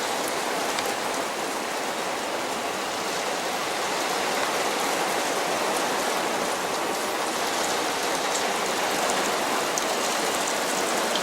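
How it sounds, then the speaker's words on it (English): Heavy rain pours down steadily, a dense, continuous hiss of water with no pauses and no voices. "Pouring rain right now."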